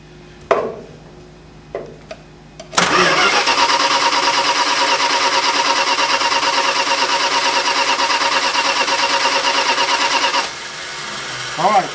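An engine is cranked after a few clunks, fires up loudly and runs at a steady, slightly rough idle for several seconds before cutting back, with no talk over it.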